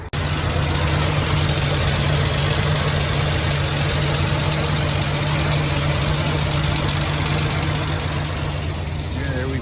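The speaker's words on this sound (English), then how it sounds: "Running, it's up at idle now." A Ford Bronco II engine, started after nearly 20 years of sitting, idles steadily with a low, constant rumble and a slight exhaust leak. The idle runs loud and unbroken throughout, with no talk heard.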